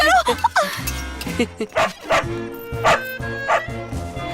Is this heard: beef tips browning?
no